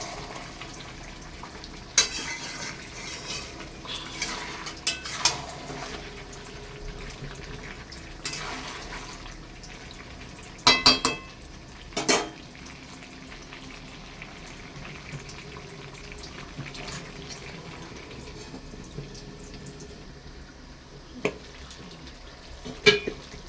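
Chicken frying in a pan as its juices release, a soft continuous sizzle with intermittent scraping and clattering as it is stirred, a few louder clanks near the middle and end, no talking.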